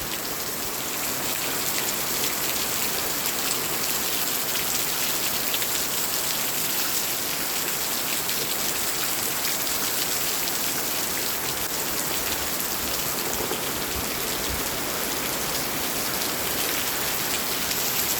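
Steady rain falling on surfaces, a dense, even hiss of drops that stays constant and fairly loud for the whole stretch, with no voices or thunder.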